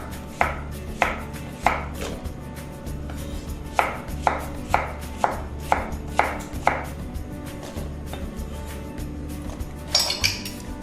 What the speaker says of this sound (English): run my knife through the zucchini, creating nice chunks